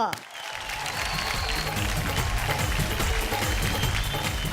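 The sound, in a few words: audience applause welcoming a guest on stage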